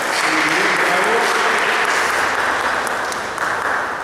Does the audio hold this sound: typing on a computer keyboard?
no